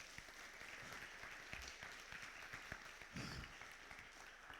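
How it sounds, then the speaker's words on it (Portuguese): A church congregation claps for Jesus during a Lord's Supper service, a continuous, moderately distant wash of many hands with a few sharper individual claps standing out. "Pode aplaudir Jesus por causa disso?"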